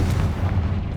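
A Confringo blasting spell explodes in the Hogwarts Legacy video game, a dense, continuous low rumbling boom that fills the whole second at steady loudness, with no one speaking.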